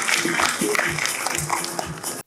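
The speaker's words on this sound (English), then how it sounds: "So can we have a quick round of applause for Shaleen?" An audience at a talk on scaling Python for performance claps, a steady wash of applause with a voice speaking over it. The applause stops abruptly.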